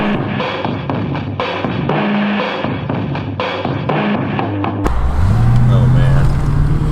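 A Cadillac CTS-V runs with a steady engine drone and road noise for several seconds, then the engine note rises sharply as it accelerates hard toward the end.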